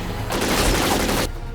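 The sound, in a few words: gunfire from cover in video game Syphon Filter: Dark Mirror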